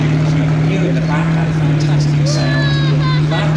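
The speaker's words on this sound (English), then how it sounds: "got the British Spitfire engine. It's basically a Merlin engine" Comet tank's Meteor engine, a derated Rolls-Royce Merlin, running at Tiger Day at the Tank Museum, Bovington: a loud, steady, low droning hum throughout, with a voice talking over it.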